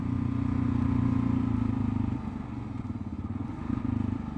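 A Kawasaki KLR 650 single-cylinder motorcycle engine fitted with a new exhaust header, rumbling steadily and loudly up close with a chunky low throb that eases slightly midway, no talking.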